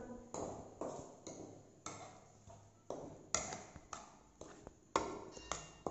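A spoon or whisk repeatedly scrapes and clinks against a bowl while sugar and milk powder are stirred together for homemade chocolate, in a steady rhythm of about a dozen close strokes.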